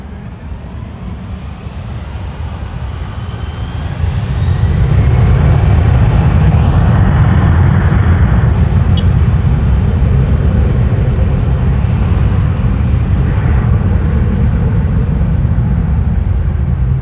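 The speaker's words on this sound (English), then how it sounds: "There goes that Delta 757 to Honolulu." A Delta Boeing 757-300 takes off from LAX bound for Honolulu, its engine roar swelling after a few seconds into a loud, sustained broadband rumble that holds steady through the rest of the clip.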